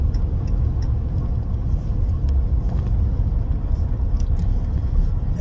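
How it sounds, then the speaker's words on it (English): A powerful Honda truck engine drives along, a steady loud low rumble of motor and road noise holding evenly throughout with no talking. "Yeah, little Honda. This is a very powerful truck."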